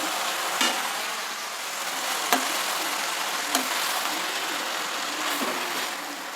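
Spinach and fenugreek leaves frying in a pan, a steady close sizzle with a few sharp clinks of stirring spread across it, no voices.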